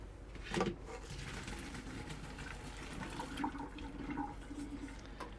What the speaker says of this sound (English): we'll just give them a quick rinse, some cool water to cool them down